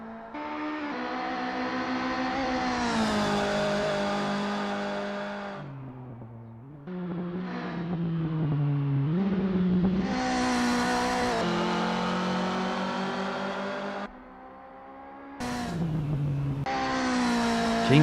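A Volkswagen Golf Mk1 'Littlebird' race car in Assetto Corsa revs hard through the gears, its engine note climbing and dropping with brief lifts and shifts, loud and close throughout with no talk.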